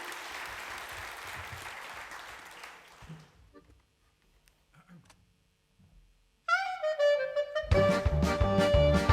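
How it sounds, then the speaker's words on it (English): A burst of applause and cheering at the close of a conference keynote for about three seconds fades to near silence, then music starts loudly. "Applause."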